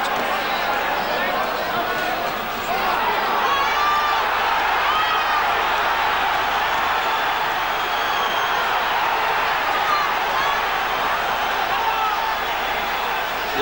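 A boxing crowd at the Frank Bruno vs Ken Lakusta fight roars continuously as a dense, steady wash of cheering, with a commentator talking over it.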